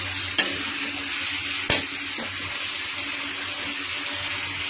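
Tomato and chopped capsicum are stirred into potatoes frying in a pan, a steady broad sizzle broken by two sharp clicks of the spoon against the pan, close and moderately loud with no talking.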